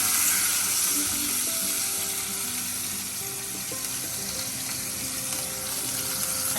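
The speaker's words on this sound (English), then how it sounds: "Now the steak is going to go into the pan." Lamb steaks sizzle loudly in a hot frying pan, a steady dense crackling hiss that stays close and constant throughout, with faint tonal clinks underneath.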